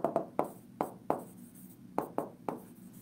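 Chalk or marker strokes on a classroom board during a physics lesson, a series of sharp, close taps and scrapes in an uneven rhythm, with no talk over them.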